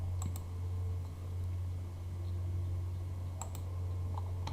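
A few sharp computer keyboard key presses, a quick pair at the start and another pair near the end, over a steady low electrical hum in a quiet room.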